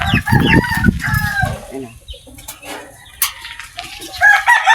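Farmyard hens cluck busily close by while a rooster crows, the calls overlapping in loud bursts with quieter gaps, no clear talk.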